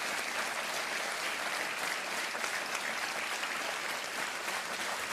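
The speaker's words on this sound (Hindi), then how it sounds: "तालियां बजती रहनी चाहिए।" Studio audience on the quiz show Kaun Banega Crorepati breaks into steady, dense applause that holds at an even level throughout, with no one speaking over it.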